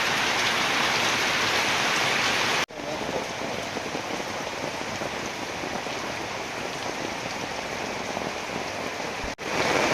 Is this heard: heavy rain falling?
yes